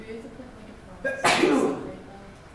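A single loud, sharp human sneeze bursts out close by in a classroom-style math lesson, following a brief spoken question.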